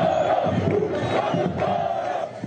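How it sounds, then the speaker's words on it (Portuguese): Fluminense de Feira football supporters chant together in a massed rhythmic roar, loud and sustained with pulsing shouted phrases from the stands. "É o grito marcante da torcida tricolor."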